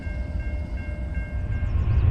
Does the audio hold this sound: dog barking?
no